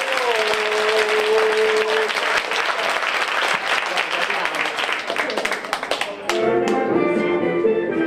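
Audience at a puppet show in a Villafranca de los Barros cultural centre clapping loudly, a dense burst of applause with sung or spoken voices over it, briefly dropping before music and voices resume.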